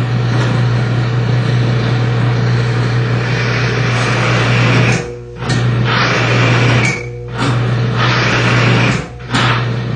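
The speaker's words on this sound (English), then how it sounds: "Friction causes extreme noise as the additive breaks down and the friction becomes so severe that the drive motor just stops." A bearing test rig run with an oil additive grinds and howls under extreme friction, a loud continuous harsh roar with a steady low hum that cuts out briefly several times near the end.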